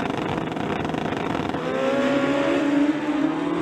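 A drag racing motorcycle engine revs up loudly at the quarter-mile start line, its pitch climbing steadily as it builds toward launch, close and continuous.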